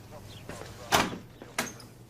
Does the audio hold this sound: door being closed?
yes